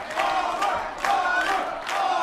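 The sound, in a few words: poker tournament crowd cheering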